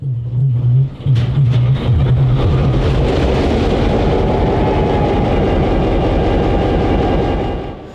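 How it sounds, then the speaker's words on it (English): A vintage EMD GP9 diesel locomotive, former Milwaukee Road number 89, cranks and fires up, settling into a loud, steady rumbling idle with clattering mechanical noise, close by and continuous. "began their day by firing up Locomotive number 89"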